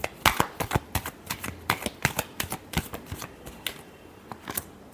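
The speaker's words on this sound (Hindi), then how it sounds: "Last shuffle." Tarot cards being shuffled in a quick run of crisp, papery riffles and snaps, close and fairly loud, with no voices.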